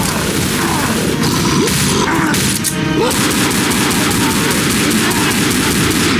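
Dense, loud gunfire from the video game Left 4 Dead, sustained bursts of automatic shots with booming hits throughout, mixed with game noise and a voice talking underneath.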